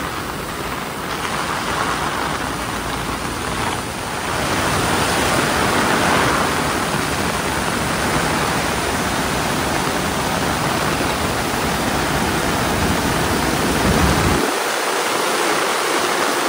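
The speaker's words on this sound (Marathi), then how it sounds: "समुद्र खवळलेला आहे" Rough, stormy Konkan sea churns during torrential monsoon rain, a dense, continuous roar of crashing waves and downpour close to the microphone, with a brief lull in the low rumble near the end.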